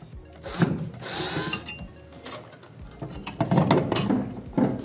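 A power drill whirs in short bursts as it backs out a screw from the gas valve on a manufactured housing furnace, with clicks and handling noise between runs, up close.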